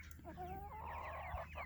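A chicken's drawn-out, rising cluck-like call, close and fairly quiet, lasting about a second over faint background hum.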